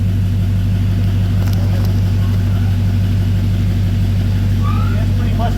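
A 6.0 diesel engine idles with a loud, steady low rumble and even throb throughout, sounding close, with faint background noise and no clear talk.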